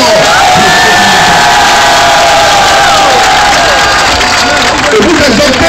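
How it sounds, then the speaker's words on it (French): A large crowd at a political rally in Abidjan cheers and acclaims loudly and continuously, a dense roar of voices with whoops and scattered applause, close and sustained throughout. "Je voudrais que nous puissions tous leur dire merci et les acclamer très fort."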